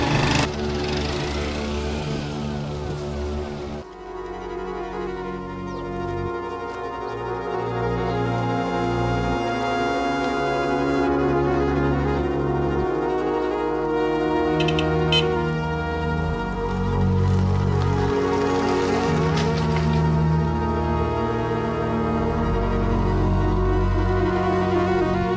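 A motorcycle engine starts and then runs at a steady, mid-pitched putter, loud and close, holding a constant idle with slight swells for the remaining stretch and no voices over it.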